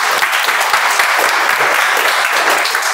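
An audience at a speech club meeting claps for a speaker's first table topic speech, a steady, full wash of applause from start to finish with no talking.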